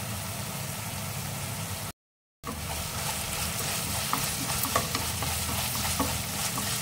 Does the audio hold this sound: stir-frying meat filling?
yes